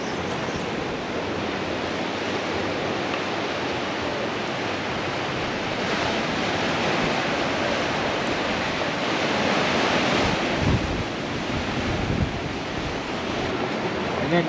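Waves wash onto a sunny beach in a steady, broad hiss of surf with some wind, continuous and fairly even, with a slightly heavier surge of breaking water near the end.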